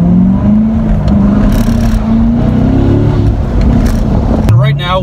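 A C7 Corvette Premier Edition pulls hard under full throttle, its engine note climbing loud and continuous with wind noise, then a quick upshift near the end drops the pitch before it rises again.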